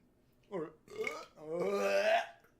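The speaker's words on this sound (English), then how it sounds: "So much burping." Several drawn-out burps in quick succession, loud and close, with the last one long and voiced, in a quiet setting.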